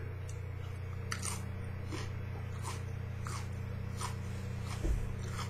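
A crunchy Aji Pineapple hot pepper is bitten and chewed close up, giving a series of short crisp crunches spread steadily over several seconds above a low steady hum, with no talk.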